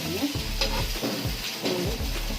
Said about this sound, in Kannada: ನೋಡಿ ಇದು ದೋಸೆ ಇದು ಹಾಕ್ತಿದ್ದೀನಿ